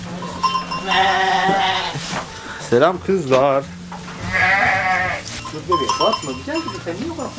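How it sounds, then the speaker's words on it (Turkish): Sheep bleat loudly and repeatedly at feeding time in a snowy winter village, several long wavering calls close by, with a person briefly speaking among them. "Şimdi de koyunların yeme saati."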